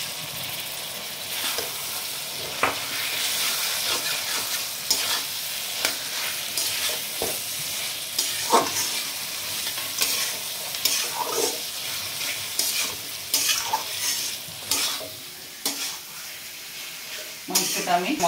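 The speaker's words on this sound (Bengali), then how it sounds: "এবারে আমার পাঁঠার মাংসটা দিয়ে দিচ্ছি।" Goat meat stir-frying with spices in a pan, a steady sizzle broken by repeated scraping and clattering strokes of a spatula, close and fairly loud.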